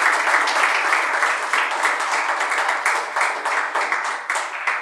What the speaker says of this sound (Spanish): Dar un aplauso al Cordero porque Él venció